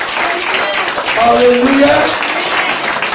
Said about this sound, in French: On applaudit ça Jésus là